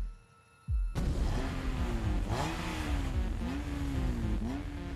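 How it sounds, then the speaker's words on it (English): After a quiet moment a race car with 400 brake horsepower fires up loudly and revs repeatedly before a race, its pitch rising and falling in several sharp surges close by. "Rev the engine."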